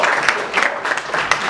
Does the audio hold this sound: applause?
yes